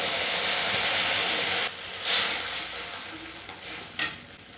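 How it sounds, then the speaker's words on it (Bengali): Khoyra fish masala sizzles loudly in hot oil while being stirred, a steady frying hiss broken by scraping stirs and a couple of sharper sputters. "এবার একটু ভালো করে নেড়ে নেবো তেলে।"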